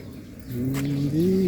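A thin, rising squeak like a bird chirp from a damaged part on a Kawasaki NS160 motorcycle, caused by a faulty washer, repeats over a low engine hum, fairly close and steady.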